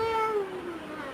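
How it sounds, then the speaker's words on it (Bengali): A cat gives a single close, clear meow that falls in pitch and trails off. "কোন ম্যাও পশুটা?"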